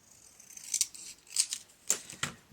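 Scissors trimming the edges of cardstock for a handmade card, heard as four crisp close snips spaced about half a second apart in a quiet room.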